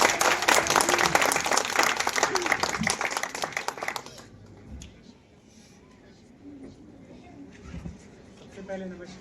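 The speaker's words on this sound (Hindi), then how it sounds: "तालियां" Audience applause at a university gathering in India, loud dense clapping for the first four seconds before fading out, followed by quieter background murmur.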